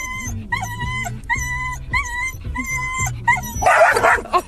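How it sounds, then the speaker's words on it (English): A dog barks repeatedly in a rapid rhythm, then whimpers and yips, loud and close, with sharp high-pitched cries toward the end and no clear speech over it. "We can see here that the dog is losing patience."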